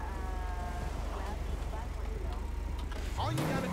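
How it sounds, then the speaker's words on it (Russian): Car driving in the video game GTA 5, pulling up to the doors of a police station: a steady low engine hum runs throughout under talk, rising at the end as the car accelerates. "Заезжаем прямо вот на машине к дверям полицейского участка."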